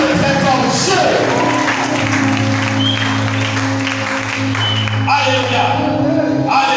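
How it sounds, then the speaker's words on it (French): A church congregation breaks into sustained applause acclaiming God, a dense, steady wash of clapping that fills the room, with voices and a low sustained tone underneath throughout. "Acclame très fort Dieu."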